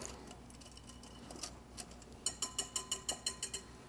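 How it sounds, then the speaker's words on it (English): Whole-grain flatbread batter whisked in a bowl to remove lumps, faint at first, then about ten quick, evenly spaced taps of the whisk against the bowl, quiet and alone. "I'm going to suggest that you use a whisk. Get those lumps out."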